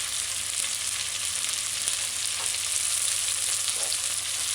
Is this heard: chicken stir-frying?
yes